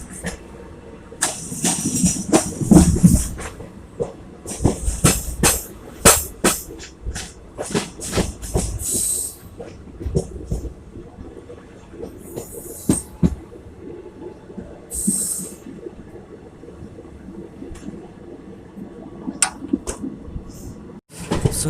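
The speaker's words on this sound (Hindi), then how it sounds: "तो चलिए देखते हैं इसका हाई स्पीड रन हरदोई से शाहजहाँपुर तक का" The Padmavat Express runs at high speed through the night between Hardoi and Shahjahanpur, with rapid irregular clacks and thumps of wheels over rail joints above a low, rattling rumble heard from inside the train.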